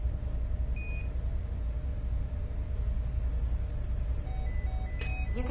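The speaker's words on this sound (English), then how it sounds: "You can press the master alarm button to disable the sound of the alarm." Master alarm in the Interkosmos spacecraft simulator game, a faint steady tone over constant low hum, then a brief burst of electronic beeps near the end.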